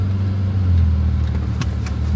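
Thirty-year-old Toyota car engine running at a steady low hum close by, a constant deep drone with no talking.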